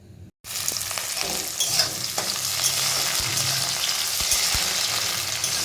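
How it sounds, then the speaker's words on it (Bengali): Vegetables frying in a pan for restaurant-style chicken chowmein: a loud, steady sizzling hiss that fills the clip after a brief silent gap at the start, with occasional soft thumps and stirring scrapes. "ভাবলাম সবজিগুলো একটু ভেজে তুলে রাখি"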